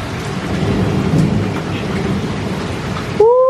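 Heavy rain pours down steadily in a dark thunderstorm, a loud dense wash of rain with deep rumbling thunder underneath that continues throughout without any talk.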